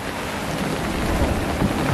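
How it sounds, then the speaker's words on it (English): Heavy rain at sea off São Jorge, a dense, loud, steady hiss of downpour with low rumbling wind noise and no gaps. "Raining and raining and raining, but it's gotten a bit more windy."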